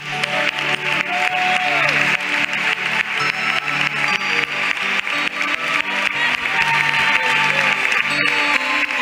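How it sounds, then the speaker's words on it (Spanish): Church congregation applauding during an evangelical service, rhythmic unison clapping held steadily and loud throughout, with music tones and voices mixed in beneath. "Denle un aplauso a Jesús."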